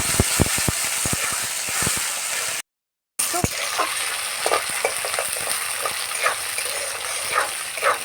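Chili, bay leaf and whole garam masala fry in oil with peas in a home kitchen pan, a steady close sizzle with sharp stirring scrapes and clinks throughout, briefly cut off midway.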